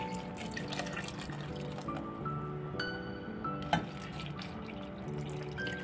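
Water is poured into a pot that holds strained sugar syrup cooked with pandan leaves, for a banana and sugar palm fruit kolak. A steady trickle and splash runs continuously and fairly close, with a small clink partway through. Nobody speaks.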